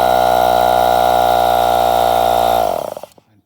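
A NuTool Impact Air 1.5hp mini compressor with its fan runs close by as a loud, steady, strongly tonal motor drone, then winds down and stops within the final second.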